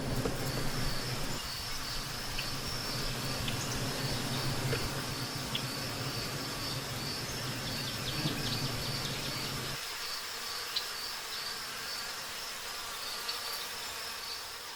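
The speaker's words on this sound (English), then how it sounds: "The bees are gently scared away with smoke, leaving their huge honeycombs behind." Wild honey bees swarm around exposed honeycombs during a harvest: a dense, continuous buzzing drone throughout, with a steady background hum that drops away partway through.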